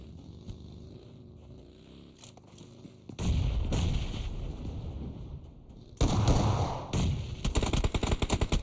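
Grenade explosions in a PUBG Mobile tournament match: booming blasts and crackling bursts arrive in two loud waves over a steady background of game noise, the second followed by rapid popping impacts.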